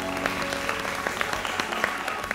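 Studio audience applause on a Pakistani late-night talk show before a game with a guest: a broad wash of clapping from many people, with a low hum beneath it and faint sharp claps poking through.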